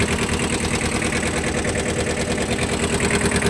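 A Kubota B-10 mini tractor engine runs steadily at a rough, rapid idle-like rhythm, loud and close, with a mechanical rattling chug throughout.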